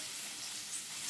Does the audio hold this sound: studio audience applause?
no